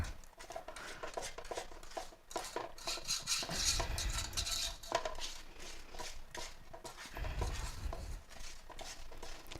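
A spoon scrapes and knocks around a bowl of coconut cookie bar batter, irregular close clinks and stirring scrapes with a couple of heavier thumps, no talking.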